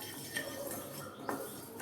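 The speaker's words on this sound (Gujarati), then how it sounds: "બંધ ગેસ પર આપણે ચલાવીએ એટલે રાઈના કુરિયા એ રોસ્ટ થઈ જશે" A couple of light metallic clinks of a spoon against a pan as split mustard seeds roast with the gas off, over a faint background hiss, brief and close.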